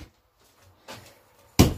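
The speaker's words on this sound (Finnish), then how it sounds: "Ovi pysyy magneetilla kiinni." A magnet-latched sauna door in a home renovation swings shut. A soft clunk is followed by a louder, sharp close thud at the end, in an otherwise quiet room.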